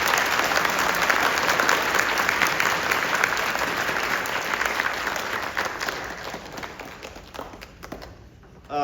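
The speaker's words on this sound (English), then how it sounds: "How about a huge round of applause for our custodians?" A school concert audience applauds the custodians with loud, dense clapping that holds steady, then gradually thins and fades toward the end.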